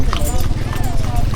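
Racehorse hooves clip-clop at a horse race in Tayabas, a quick loud rhythmic clatter close by, mixed with people talking and crowd noise.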